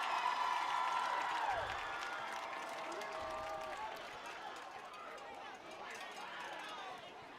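Crowd cheering at a high school football game, a distant, diffuse roar of voices and whistles under louder nearby speech, with a few tonal horn-like calls and crowd swells that fade slightly toward the end.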